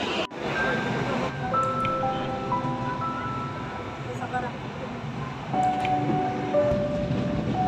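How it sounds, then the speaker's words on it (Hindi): A passenger train rolls slowly into an Indian station near Kanpur, a steady loud rumble with squealing, ringing wheel tones, and a burst of noise at the start. "फाइनली हमारी ट्रेन आ गई है, अभी निकलते हैं आगे के लिए"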